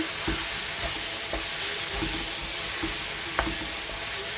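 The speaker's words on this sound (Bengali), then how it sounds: "পেঁয়াজ আমার ভাজা ভাজা হয়ে গেছে এবার এটা মিক্সড মিক্সড করে নেব" A paste of onion, garlic, tomato, ginger and chili sizzles steadily as it fries in a pan, with occasional spatula scrapes and stirring knocks over the continuous hiss.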